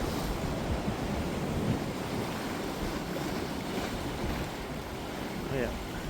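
Sea waves wash onto the shore at Blackpool in a steady, broad rush, mixed with gusting wind buffeting the microphone and no distinct individual breakers.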